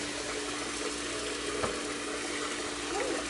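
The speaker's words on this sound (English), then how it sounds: "While waiting for the pepper to get dry, we are going to wash our rice." Soft running and splashing water as rice is washed for Nigerian jollof rice, a steady, faint wash of sound with a brief clatter in the middle.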